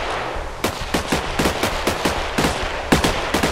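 Rapid gunfire in Minecraft with the Voltz modpack, a string of about a dozen sharp, loud shots at uneven, quick intervals, close and punchy, with no talk over it.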